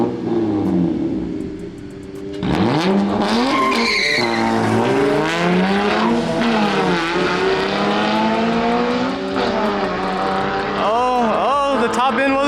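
A fully built hatch with a J32 engine launches hard, the engine roaring up through rising revs with tire screech, loud and close, shifting pitch repeatedly over about ten seconds with voices faintly underneath.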